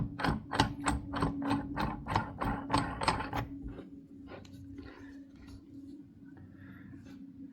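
A bearing press tool being cranked against a bearing with a washer, giving a quick run of about a dozen sharp ratcheting clicks, then quieter scraping and metallic shuffling, close up.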